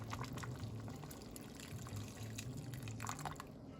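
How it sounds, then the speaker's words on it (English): Water pours steadily into a pot of cooking lentils, a continuous liquid splashing and trickling with some drips, close by and fairly quiet. "So what I'm gonna do now is just add a little more water."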